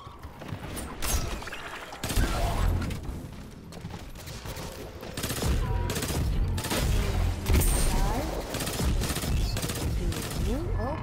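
Rapid gunfire and explosions from the video game Destiny 2. Dense bursts of shots and blasts run almost nonstop and loudly, with a voice talking over the action at times.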